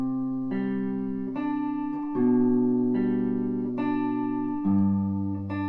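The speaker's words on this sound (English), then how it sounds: "So those, the little bass line with strings 3 and 2 sounds like" A guitar plays the bass line of a song on strings 3 and 2, plucked single notes in a slow, even sequence of about eight sustained tones, clean and close with no talking.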